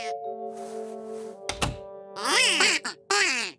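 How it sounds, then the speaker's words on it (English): Cartoon ducks quack in a children's animated show: a series of nasal, honking quacks in the second half, preceded by a sustained musical tone and a sharp thump. "These ducks aren't getting better."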